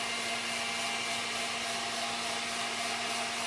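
An electric mixer whisking a peach cobbler ice cream base, giving a continuous steady whirring drone with a constant motor hum, close and loud, alone without talk.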